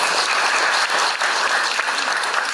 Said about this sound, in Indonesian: Tepuk tangan untuk Pak Hartanto.